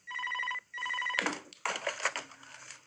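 A telephone ringing in a scene from the Paddington film, two loud electronic rings followed by noisy rustling and scene sounds.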